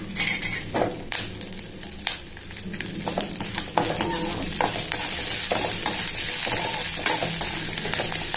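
Ginger, green chilli and dried chillies sauté in a pan with a bright, continuous sizzle, broken by spoon scrapes and metallic clinks against the pan.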